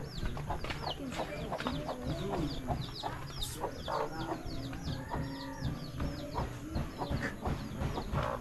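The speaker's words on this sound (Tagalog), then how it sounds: "Maraming manok" Many chickens cluck and squawk close by, a busy overlapping chorus of fowl over low background noise.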